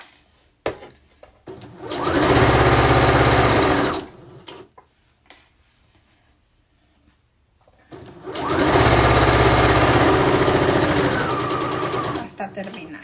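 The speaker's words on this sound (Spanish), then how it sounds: "Entonces seguimos cosiendo." Domestic sewing machine stitching a pillowcase in two loud, steady bursts of about two and four seconds each, separated by a quiet pause with light handling noise.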